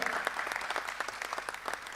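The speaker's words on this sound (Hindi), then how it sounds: "जोरदार ताली बजाकर हम स्वागत करें।" An audience at a Hindi memorial gathering claps to welcome a speaker to the stage. The applause is brisk and dense, with close, rapid rhythmic claps filling the whole short stretch.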